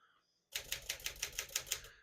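Typing on a 1957 Smith-Corona Silent-Super portable typewriter: about ten quick, even keystrokes in a steady rhythm, close and crisp, after a short quiet pause.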